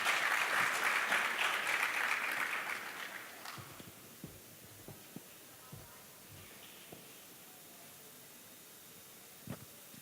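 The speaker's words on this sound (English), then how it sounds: "a round of applause for them as they make their way up." An audience applauds loudly and steadily at a strategic-planning event, then the clapping fades to a few scattered claps and quiet room hiss.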